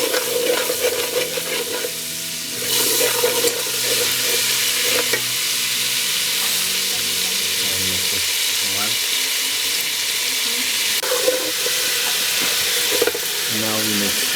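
A masala mixture of chili powder and salt fries in hot oil for a Baltistan dish, a loud continuous sizzle with spoon scrapes and stirring throughout, with occasional voices in the background.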